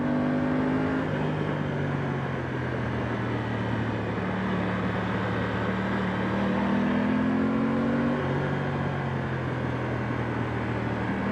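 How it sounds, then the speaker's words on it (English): An Aprilia Tuono 660 Factory motorcycle downshifting with its auto-blipper, the engine note dropping and rising in short blipped steps under steady wind rush while riding. "So yeah, you can hear that blipper going down."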